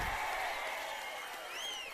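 A crowd at a Chandrababu political rally claps together in a dense, loud wash of applause that slowly fades, with a whistle-like tone rising over it near the end.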